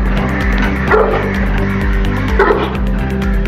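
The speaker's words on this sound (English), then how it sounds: "In our opinion, the Bully Kutta has a powerful bark." A Bully Kutta (Pakistani Bully) dog barks loudly and close, with two deep barks spaced apart over a steady low droning background.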